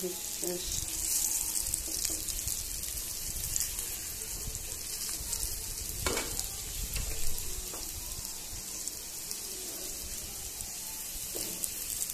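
Sliced teasel gourd, potato and aubergine fry in oil in a pan, giving a steady, moderate sizzle with occasional clinks and stirring scrapes, unbroken by talk.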